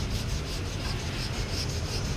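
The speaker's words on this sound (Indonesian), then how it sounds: "ini amplas 240" A bathtub repair patch is sanded with 240-grit sandpaper, giving a continuous close scratchy rubbing hiss with steady back-and-forth strokes and no voices.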